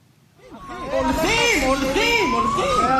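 A fire engine or emergency vehicle siren wails loud and close at a missile strike site in Holon, central Israel, rising in after a quiet start and cycling through repeated up-and-down sweeps over crowd noise.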